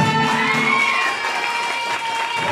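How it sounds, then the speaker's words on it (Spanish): Crowd cheering and applauding at a quinceañera celebration with a youth mariachi band in Colombia, a continuous loud wash of cheers, whistles and clapping throughout the short moment. "Fuerte el aplauso."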